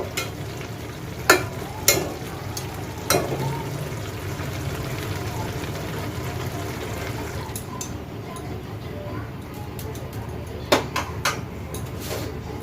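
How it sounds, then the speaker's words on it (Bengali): Spices tempering in hot oil for red amaranth greens with tangra fish make a continuous sizzle, punctuated by several sharp utensil knocks and clinks spread through the clip, with faint voice-like sounds in the background. "এবার আমি ফোড়ন দিয়ে নেব।"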